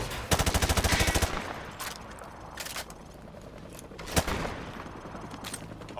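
A rapid automatic burst is followed by scattered single shots at targets in the Call of Duty Modern Warfare 2 campaign, crisp and close with light mechanical clicks between rounds.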